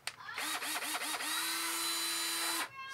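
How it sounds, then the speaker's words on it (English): A 14-volt Black & Decker electric screwdriver is pulsed in a few short bursts, then runs steadily with a high motor whine for over a second before stopping. The whine is loud and close. "This is a 14-volt Black & Decker screwdriver."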